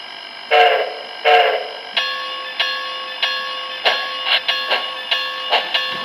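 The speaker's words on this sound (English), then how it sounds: "And I do need to get the chuff rate fixed." An Athearn Genesis MT-4 model locomotive's sound unit chuffs, with two long hissing blasts followed by a regular run of puffing beats under a steady tonal engine hum, close and fairly loud.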